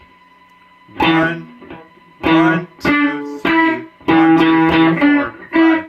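Electric guitar plays the choppy, staccato main riff, a series of short distorted notes in quick, syncopated groups, while a voice counts the beats along with it.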